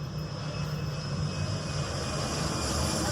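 A fixed-wing propeller airplane passes overhead in Key West, its steady, continuous engine drone filling the scene loudly and evenly throughout, with no one speaking.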